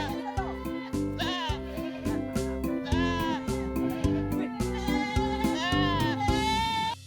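Boer goats on a goat farm in Calatagan, Batangas, bleating repeatedly in wavering, nasal calls over a steady tonal background, fairly close and loud throughout.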